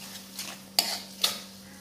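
Fried squid with ground spice paste gets stirred in a pan, two sharp metallic scrapes of a spatula over a faint background sizzle.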